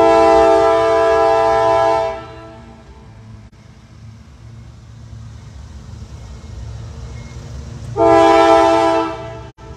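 A CSX freight train rolls past near Kelly, Kentucky, its horn blaring loud and close in two long blasts, with a steady rumble of the passing cars between them.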